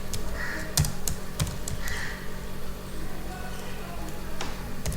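C code being typed on a computer keyboard, with scattered clicky keystrokes and a few louder key thunks over a steady background hum, no talking.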